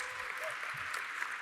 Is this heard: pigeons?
no